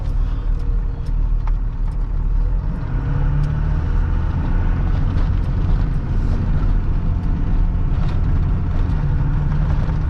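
A tow rig truck accelerates hard in low gear, its engine a loud, steady, close roar that holds throughout with a slight rise in pitch partway through.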